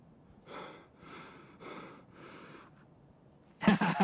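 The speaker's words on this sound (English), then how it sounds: "You're breathing because you're ADSing so long" Four slow, rhythmic breaths from a character aiming down sights in Escape from Tarkov, each inhale-exhale soft and evenly spaced, followed by a sudden loud burst of noise at the end.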